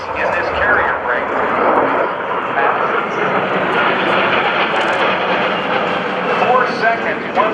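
Military jets flying a carrier break landing pattern at a naval air station airshow, giving a loud, continuous engine roar that holds steady throughout with faint crowd or announcer presence underneath.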